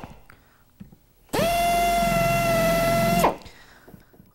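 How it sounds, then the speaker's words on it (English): A power drill whines loudly and steadily for about two seconds drilling the rivet heads off Rolls-Royce brake shoe linings, then spins down, with quiet room noise before and after. "I'm just drilling the heads of the rivets off."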